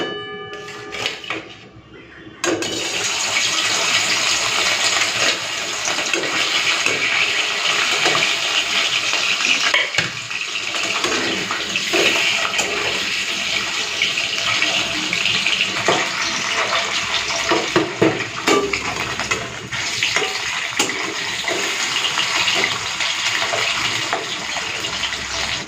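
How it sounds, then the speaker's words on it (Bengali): Fish hitting hot oil in a pan for a simple home-cooked curry, with a steady loud sizzle and spatter that begins suddenly and goes on unbroken for over twenty seconds with no voices over it. "তো তেলটা গরম হয়ে গেছে, এখন এই মাছগুলোকে দিয়ে দেবো।"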